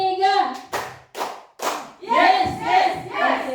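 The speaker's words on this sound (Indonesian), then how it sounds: "tepuk tiga." A third burst of hand clapping in a school ice-breaking session, several sharp group claps in quick succession, set between spoken words from a voice nearby.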